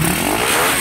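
Motorcycle engine with loose compression being revved hard, a loud, rough, continuous roar held close up for a brief moment.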